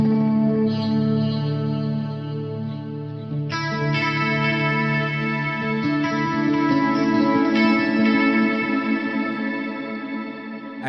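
Guitar through an '80s-style effects rig set to a shimmer delay, sustained chords that bloom into bright, octave-shifted washes with a long, chorus-like tail, loud and alone with no voices.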